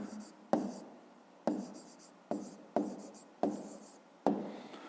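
Pen strokes scratch across paper as an answer is written by hand, about six short, evenly spaced strokes, close and quiet.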